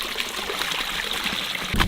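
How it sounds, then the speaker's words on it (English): Water trickles and dribbles out of a toolbox recovered from a sunken boat, a soft continuous pour close by ending in a brief louder splash. "Drain a little water out of my toolbox."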